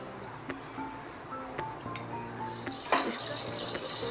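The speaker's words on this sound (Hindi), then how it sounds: "अब हम इसमें क्या डालेंगे, इसमें हम डालेंगे पानी।" Water is poured into cooled roasted flour for chicken nihari in a home kitchen. Faint clinks and ticks come first, then a brief splash and a soft, steady pouring hiss near the end.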